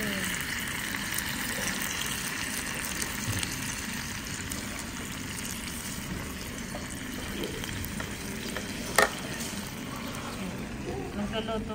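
Food frying and being stirred in a kitchen in Japan, a steady hissing sizzle that runs throughout, with a brief clatter near the end and faint voices in the background.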